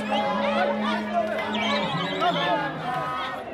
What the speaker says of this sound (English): the marchers sing and dance their way back through Cape Town city centre